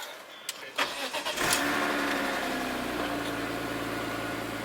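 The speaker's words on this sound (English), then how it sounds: "Alright, let's turn on the car." A car with a swapped 1JZ engine cranks a few times and catches, settling into a steady close idle that runs on alone.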